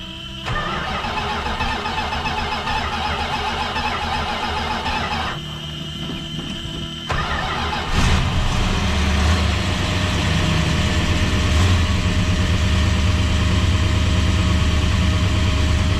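A 1973 Dodge Dart Sport with dead cylinders and the lower exhaust unconnected cranks for several seconds, then fires and settles into a loud, rough, rumbling idle that carries on steadily, with no voices.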